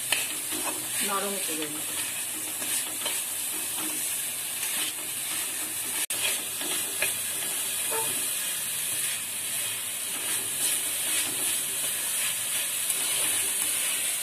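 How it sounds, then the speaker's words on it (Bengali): Sugar and grated coconut being stirred in a pan for narkel sandesh, giving a steady scraping, sizzling texture throughout, with a single sharp knock midway and a brief voice speaking near the end. "চিনিটা নারকলটা আমি নাড়িয়ে এটাকে একটু"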